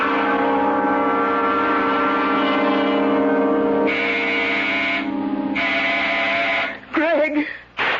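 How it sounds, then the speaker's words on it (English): Long, harsh, sustained door buzzer from an old radio drama, loud and steady with a nasal drone, changing tone midway before breaking off into wavering noise at the end. "When Sandy pushes that door buzzer, listen to it carefully, Florence."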